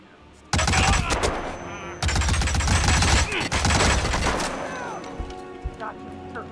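Rapid bursts of gunfire from a gun in the Hitman video game, loud and dense with sharp repeated shots over several seconds, broken by brief pauses.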